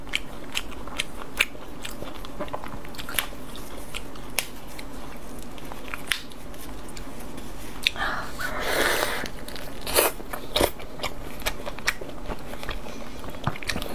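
Thin slices of pork are chewed close to the microphone in soft, irregular crunchy and wet bites, with one louder burst of mouth noise partway through and no talking.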